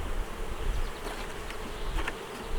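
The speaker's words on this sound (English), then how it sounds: "There's a little bee can fall on my finger." Honeybees buzz steadily around an open beehive during a weekly hive inspection, a dense continuous drone close by with no talking.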